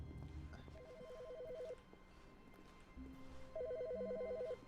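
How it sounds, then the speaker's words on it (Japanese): In the video game The Stanley Parable, a telephone gives two short trilling rings separated by a pause. The rings are faint and distant against a quiet room background. "電話鳴るやん。"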